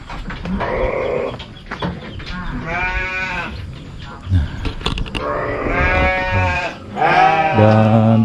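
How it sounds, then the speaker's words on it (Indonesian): Several goats bleat repeatedly, close and loud, their wavering calls overlapping in a noisy farmyard chorus with short gaps between. "Sini ada peliharaan-peliharaan juga seperti kambing, seperti ayam ya."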